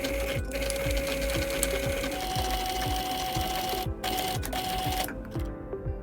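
A sewing machine runs steadily in a rapid, rhythmic motor-and-needle whir as it edge stitches a new pocket cut from a man's shirt, nearby and loud, pausing briefly a couple of times.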